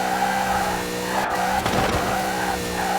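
An Alfa Romeo 155 Q4 drifting in the racing game Forza Horizon 4, with a loud steady engine drone and a sustained tire squeal from the slide, no talking.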